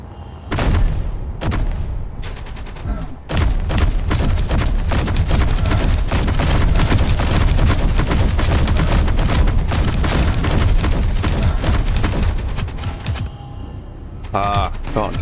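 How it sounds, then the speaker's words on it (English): Rapid automatic gunfire from a weapon in the video game Space Engineers rattles loud and close in dense bursts, with a few sharp single shots at the start and a brief lull near the end. "you've got this thing shooting at you"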